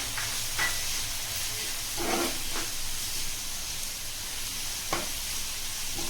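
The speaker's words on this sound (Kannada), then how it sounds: "ಚೆನ್ನಾಗಿ ಫ್ರೈ ಮಾಡ್ಕೊಳ್ಳಿ." Spices and chilli powder sizzle in a pan for egg curry, a steady frying hiss with occasional stirring scrapes and clinks, close and moderately loud.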